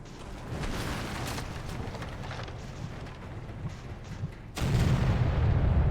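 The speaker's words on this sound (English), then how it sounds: "Yeah, secondary's firing now." Secondary naval guns of a warship fire in Victory at Sea Atlantic, a dense run of rumbling booms and thuds that steps up into a heavier, louder barrage in the final second.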